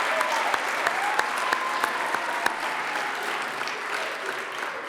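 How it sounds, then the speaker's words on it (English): An audience at a school winter athletics awards night applauds steadily throughout, a dense wash of clapping with a few louder nearby claps popping out at regular intervals. "Let's just have one final round of applause for all of our winter student athletes."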